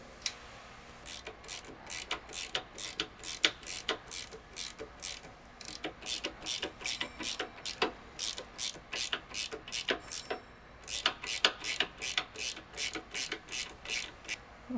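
Ratchet wrench clicking in quick repeated strokes while unbolting a control arm on a 2005-2009 S197 Mustang, a steady series of close, crisp ratcheting bursts with short pauses between them.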